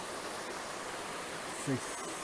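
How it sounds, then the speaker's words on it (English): A waterfall along the hiking trail in Van Sickle Bi-State Park near Lake Tahoe gives a steady, even rush of falling water that fills the whole short stretch. "This is the waterfall, 1 mile up,"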